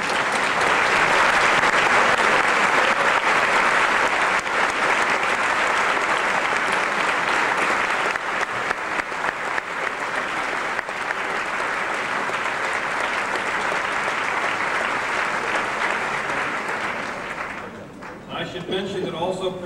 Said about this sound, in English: mutual round of applause